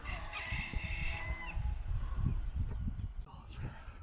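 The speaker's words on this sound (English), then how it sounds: "There's chickens, cockerels, geese, bantams." Chickens and cockerels on a smallholding at a Somerset camping and caravan site: a drawn-out crowing call rises early, then fades into scattered clucks and farmyard noise while people talk nearby.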